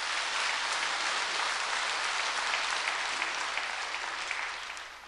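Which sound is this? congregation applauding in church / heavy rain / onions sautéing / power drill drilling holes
congregation applauding in church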